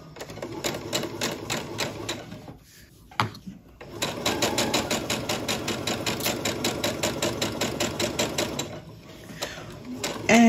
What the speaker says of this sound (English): So just sewing along that seam as we've done for all the other pieces.